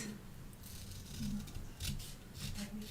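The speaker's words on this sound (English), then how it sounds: "now we're going to cut this" Scissors snipping through paper for a Christmas cluster flip book, a few close, soft cuts spread across a few seconds with light rustling between them.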